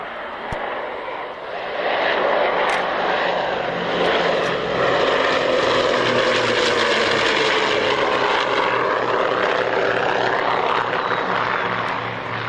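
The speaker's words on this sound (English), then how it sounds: "And this really was the DC-6 itself. Just listen to those engines as she flies past." Douglas DC-6 four-engine propeller airliner flying past at a 1998 airshow, a loud droning piston-engine roar that swells and shifts in pitch as it passes overhead.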